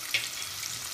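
Turmeric and mixed masala stirred in a hot frying pan for a dried Bombay duck and field bean dish, a steady close sizzle with one brief scrape near the start, no voices.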